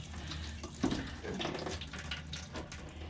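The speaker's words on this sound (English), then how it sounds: "I'm gonna water them." Running water from a hose or can soaking freshly packed potting soil around garden plants, a steady close splash and trickle with no talking.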